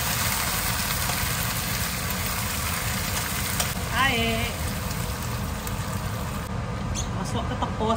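Garlic and onion frying in hot oil for a tapah fish dish, a steady broadband sizzle running throughout at close range, with a brief voice and a few clinks partway through.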